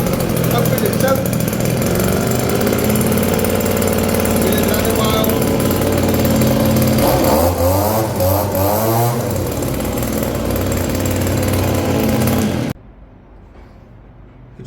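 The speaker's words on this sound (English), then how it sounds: "I'll give it some throttle with my finger. Take up the slack. Fire it up. Open the choke." Husqvarna-style Husky handheld leaf blower, gas engine, fired up with choke open and throttle worked by a finger, roaring loudly and steadily close by with revving swells before cutting off abruptly near the end; someone talks over it.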